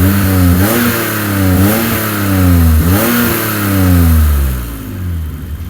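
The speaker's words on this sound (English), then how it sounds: "listen to this glorious M30, man. This thing with this exhaust sounds so sweet." A BMW E34 535i's M30 engine revs repeatedly through a sporty exhaust, about four rising blips over a deep, throaty idle, loud and close.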